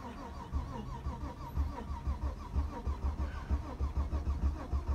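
A Vauxhall Vectra B 2.5 V6 GSi, unstarted for several months, cranks over on its starter with a steady, rhythmic churning pulse that repeats without catching, moderately loud and close.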